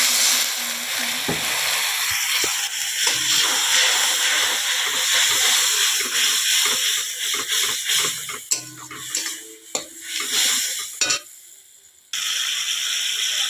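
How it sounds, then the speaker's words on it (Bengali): Turmeric and chili powder fry in oil for a spicy pointed gourd curry, sizzling steadily as a spatula scrapes and stirs in uneven strokes. The scraping grows busier and clattery before a short pause and a returning hiss. "এবার ভালো করে মিশিয়ে নেব।"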